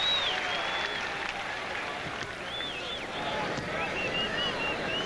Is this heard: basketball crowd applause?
yes